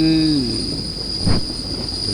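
A Thai passenger express train, Rapid 141 from Bangkok to Ubon, rumbles along the tracks near Buriram with a steady hum and high-pitched whine, a short louder clatter in the middle.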